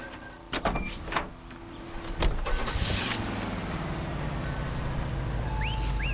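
A car stolen and driven in L.A. Noire, with door and handling clunks early on, then a steady engine rumble building as the vehicle pulls away, fairly close and without voices.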